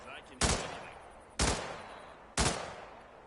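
Three loud gunshots fire at an even pace, about one per second, each with a short decaying tail, aimed at a target in the video game Hitman 3.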